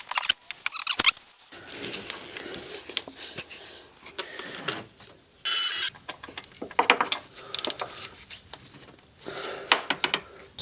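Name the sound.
ratchet tightening Audi S5 valve cover bolts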